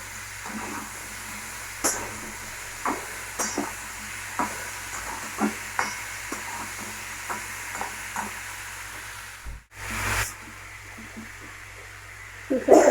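Green chillies and chopped tomato fry in a pan, a low steady sizzle marked by a regular series of soft stirring scrapes at roughly one-second intervals and a louder clatter near the end, close and with no speech.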